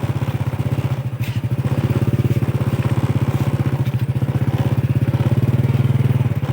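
A motorcycle ridden along a rural track on a Thai prawn-catching trip, its engine running close and steady throughout with a fast, even putter that rises and falls slightly, with no voices.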